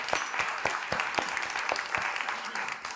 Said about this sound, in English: I'd like to give a round of applause to Watkins.